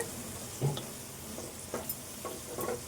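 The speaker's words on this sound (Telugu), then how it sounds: "ఇప్పుడు దొండకాయ వేసుకుందాం ఇలా కడి చేసిన దొండకాయ" Chopped ivy gourd sizzles quietly in a hot pan for a curry, a faint steady frying hiss broken by a few soft stirring scrapes.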